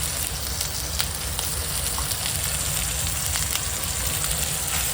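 Fish oil frying in a pan with turmeric and salt, a steady dense sizzle with crackling pops running loud and close throughout, no talk.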